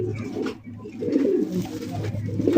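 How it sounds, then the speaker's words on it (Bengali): A pair of large Ghiyachuli pigeons coo in low, steady murmurs, the soft throaty calls overlapping continuously and sounding close. "বিশাল বড় সাইজের একজোড়া ঘিয়াচুলি কবুতর"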